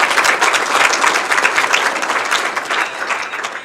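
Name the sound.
applause at a banquet for player nominees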